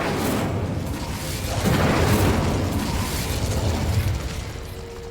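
Incendio fire spell cast in the video game Hogwarts Legacy: a dense whooshing, roaring burst of flame with booming low rumble, swelling midway and fading slowly, with no voice over it.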